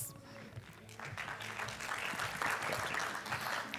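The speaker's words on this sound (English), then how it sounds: "So please, a round of applause as Andrew makes his way to stage" Conference audience at an African hospitality investment session claps as the moderator walks to the stage, applause swelling from faint to fuller and continuing steadily.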